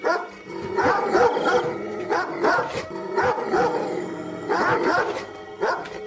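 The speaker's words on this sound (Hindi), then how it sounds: "फिर उसकी पुकार सुनकर दूर दूर से और भी कुत्ते वहां पहुंच जाते हैं" Several dogs bark and yelp in repeated bursts, gathering from all around to surround someone, loud and close with short whimpering yips between the barks.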